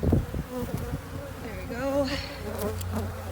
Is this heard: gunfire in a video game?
no